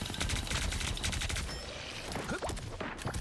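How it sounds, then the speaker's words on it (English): Rapid enemy gunfire crackles through a hectic Marvel Rivals firefight, dense overlapping bursts running the whole stretch with other game effects mixed in and no voices. "Those guys are about to shoot at us."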